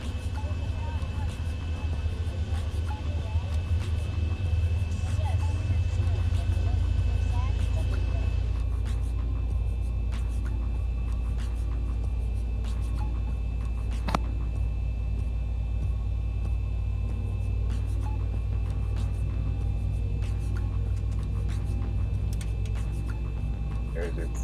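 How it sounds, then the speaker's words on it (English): A Boeing 737-900 engine number 1 spooling up in the X-Plane 11 flight simulator, a steady loud low rumble with a rising whine that deepens and fills out partway through, continuous throughout. "process for engine number 1. Watch it spool up."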